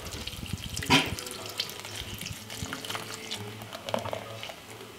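Bud Light beer is poured from the can over raw goose breast, giving a steady close splashing, fizzing stream with one sharp clunk near the start.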